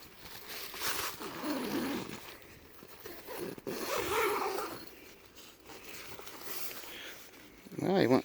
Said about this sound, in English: One too many zippers.